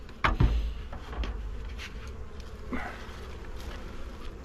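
Honeybees buzz around an opened hive coming out of winter, a continuous close hum broken by a few sharp knocks and handling thumps near the start.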